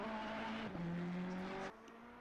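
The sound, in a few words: Ferrari race car driving over curbs at Suzuka, racing video game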